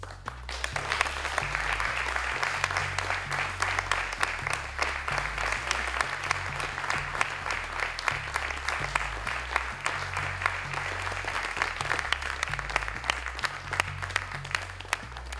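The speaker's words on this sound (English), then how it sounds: "we'll give it a round of applause, please" A crowd gives sustained applause at a university event where a Formula 3 race car is unveiled, the clapping dense and even throughout.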